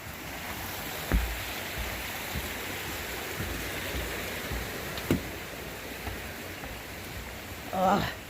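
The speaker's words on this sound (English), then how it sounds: "that's why your waterfall is nice and pretty" Amicalola Falls waterfall pours in a steady, even rush of water, with a few soft thumps nearby and a brief louder knock near the end.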